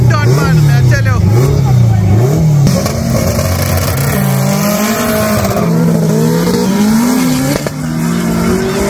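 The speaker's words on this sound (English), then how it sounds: "They're doing like grudge match style racing right now, so it's not a class thing, it's more grudge match." Race cars in grudge-match street racing in Montserrat, including a fast Honda S2000 and a 2ZZ Celica, rev hard and loud with engines rising and falling through gears, plus a brief tire squeal.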